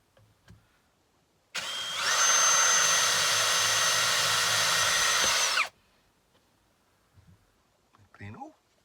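A power drill with a freshly resharpened bit spins up and bores into a piece of scrap for about four seconds, a loud steady whine that cuts off abruptly, followed by small handling clatter and a brief voice.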